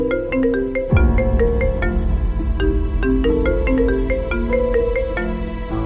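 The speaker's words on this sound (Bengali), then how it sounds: "ওই, ওকে ফোন কে করছে দেখো তো।" A mobile phone rings with an incoming call in an action drama scene, its bright melodic ringtone looping loudly and steadily throughout with no talk over it.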